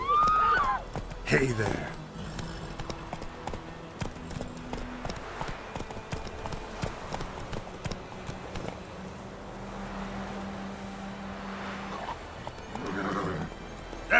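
Hooves of Roach, a horse in a video game, clip-clop in a steady galloping rhythm through most of the stretch, with a whinny near the start and a voice talking over it.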